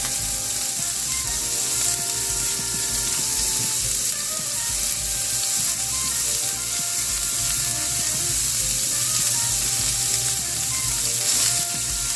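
Onion sizzles in a hot pan, a steady, loud frying hiss with occasional stirring that continues evenly throughout without talk.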